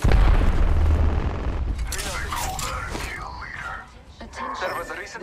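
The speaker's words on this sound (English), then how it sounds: "Throwing thermite grenade." Thermite grenade thrown in Apex Legends: a loud burst of fiery rumble opens, then fades under a character's spoken callout and other game noise.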